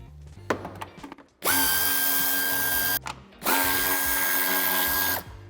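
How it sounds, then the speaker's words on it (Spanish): Power tool spinning out bumper and taillight screws on a BMW 2 Series Active Tourer (U06, 2021): two sustained, loud whirring bursts of a few seconds each, preceded by small clicks and handling noises. "quitamos el tornillo que sujeta el paragolpes de cabeza de 8 y con cabeza de 10 los tornillos que sujetan el piloto"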